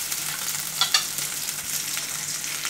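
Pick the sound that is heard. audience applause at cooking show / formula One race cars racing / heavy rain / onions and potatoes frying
onions and potatoes frying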